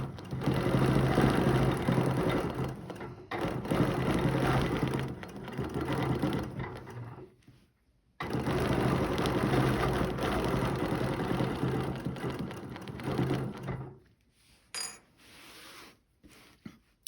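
A sewing machine stitching quilt rows in long continuous loud runs, pausing briefly around the middle before starting again, then stopping with a few short bursts and clicks at the end.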